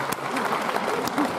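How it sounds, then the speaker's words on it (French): A cinema audience applauds at a Bordeaux premiere of the French comedy film, with thick, continuous clapping from a full room, a couple of sharper claps on top and faint voices mixed in. "Maintenant, là, c'est nous qui vous applaudissons"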